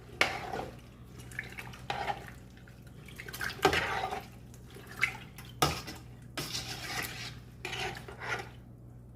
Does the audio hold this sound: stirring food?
yes